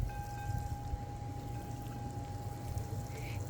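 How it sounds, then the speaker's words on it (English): Water pours steadily onto a freshly started compost batch, a continuous close splashing rush over a faint steady tone, with no talking. "then I'm just going to water it in,"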